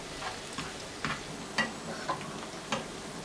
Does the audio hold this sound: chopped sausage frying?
yes